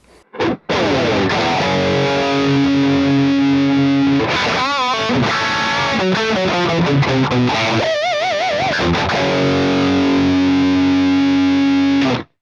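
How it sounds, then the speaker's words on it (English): A loud electric guitar through a distortion pedal into a Marshall JCM 800 amp plays sustained power chords and bending lead notes, thick and saturated, with a brief pause before the chords ring out. "JCM 800 with a distortion pedal in front of it."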